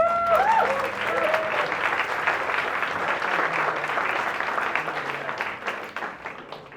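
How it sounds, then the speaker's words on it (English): A crowd at an event on diversity in AR/VR and gaming bursts into sustained applause, dense clapping that slowly fades, with a voice briefly audible at the start. "So big round of applause for them."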